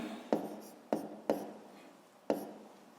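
A pen writes on paper during a sixth-grade math exercise: four quiet, sharp strokes, each fading quickly, with short gaps between them.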